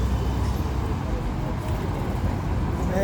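Trucks rumbling along a road during a street demonstration at Place Denfert-Rochereau in Paris, a steady low drone of heavy traffic noise with faint background voices.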